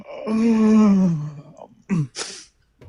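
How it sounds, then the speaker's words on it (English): A long, drawn-out yawn with a falling moaning tone, followed by a short breathy exhale and a soft sigh-like sound. "Sorry, that was a yawn."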